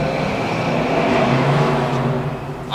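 A car engine revving outside, a loud throaty roar that holds steady and swells slightly before easing, heard alone without talk.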